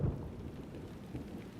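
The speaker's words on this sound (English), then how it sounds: "Yep, it's raining." Steady rain hisses with a low, rolling rumble of thunder underneath in the video game Xenosaga Episode II, a continuous stormy wash at moderate volume.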